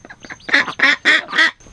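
Ducks quacking up close in a run being herded back into their fence, a rapid series of four or five loud, raspy quacks with a few softer calls at the start.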